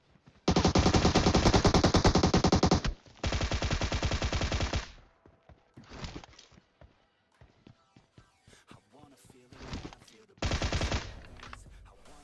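Automatic gunfire in the mobile battle-royale game PUBG Mobile: two long, loud sustained bursts, a short burst, then scattered shots and footsteps, ending with another sharp burst.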